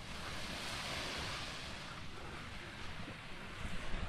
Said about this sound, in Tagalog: Lahat ata ng beach dito sa Siargao maalon. May alon.